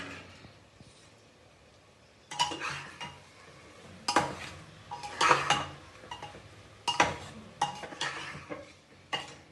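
Rice and lentils are stirred together in a pot for Bengali masala khichdi, with bursts of scraping and clinking from a spoon against metal between quiet pauses, close and fairly soft, with faint sizzling beneath.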